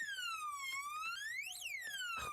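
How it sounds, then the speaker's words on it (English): A house alarm at an upper-income home wails steadily as a continuous rising-and-falling electronic siren tone with strong harmonics, loud and alone, without any talking. "Oh, no, that's their house alarm."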